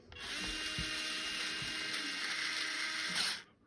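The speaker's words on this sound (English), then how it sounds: "Now we can start at one of them and tighten it down pretty good" A small electric power driver whirs steadily while tightening screws on a new nitro engine. The hum is constant and close for several seconds, with faint clicks underneath, then it cuts off.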